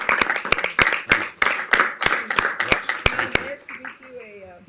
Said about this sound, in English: Please stand and give him a huge round of applause.